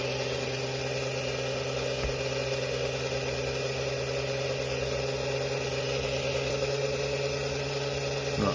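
A Bulldog slot car motor spinning steadily on a dyno test stand, a constant high electric whine with faint hum that runs unchanged and alone throughout.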